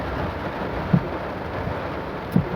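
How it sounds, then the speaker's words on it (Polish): Rain falls outdoors during a drive through town while looking for a place to park. It makes a steady, dense hiss with two soft thumps partway through, and no one speaks. "deszcz pada"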